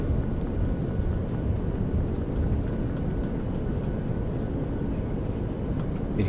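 An airliner's thrust reversers roar during the landing roll at Newark as a steady, heavy, low rumble that fills the whole stretch without letting up.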